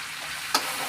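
Meat frying with meat masala in a pan gives a faint steady sizzle, with a single short scrape of stirring midway, quiet and brief.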